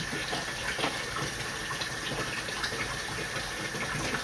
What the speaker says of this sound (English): So I got the utility sink filling up to the top. Now I'm going to release the water.